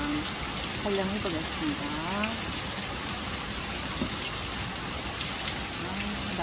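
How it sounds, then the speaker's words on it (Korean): Heavy summer rain shower pouring down steadily, a dense continuous hiss close by, with a voice speaking over it throughout. "비가 이렇게 많이 와서 힘들어요."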